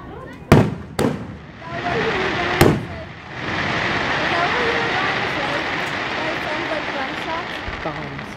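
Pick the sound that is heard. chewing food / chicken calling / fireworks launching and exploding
fireworks launching and exploding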